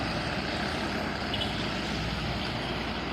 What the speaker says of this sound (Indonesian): Kita pantau ya lalu lintas di depan terminal.